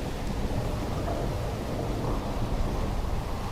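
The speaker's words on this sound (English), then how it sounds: "Let it rain." Steady heavy rain with a low thunder rumble in the stormy world of the video game Tormentum II, a continuous dense wash of noise with no talking.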